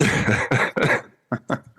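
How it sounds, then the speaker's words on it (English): A person coughs in a quick cluster of harsh bursts, then two shorter coughs follow after a brief pause, close and clear with no other sound around them. "I just go into it and I start coughing"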